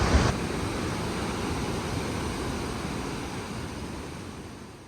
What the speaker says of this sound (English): This is the waterfall that we're visiting.